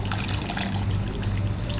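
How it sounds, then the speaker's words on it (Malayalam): Water poured into a thick mackerel fish curry, heard as a continuous, fairly loud splashing pour with no speech over it. "എത്രത്തോളം ചാറ് വേണോ അതിനനുസരിച്ച് നമുക്ക് ഇതിലേക്ക് വെള്ളം ചേർത്ത് കൊടുക്കാം"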